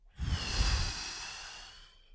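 A single long, breathy exhale during guided breathing, close and soft, rising quickly then slowly trailing off over about two seconds.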